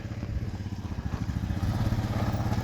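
A combine harvester's engine runs steadily during a soybean harvest, a continuous low mechanical drone with a rhythmic throb that grows slightly louder over the few seconds, with no talking.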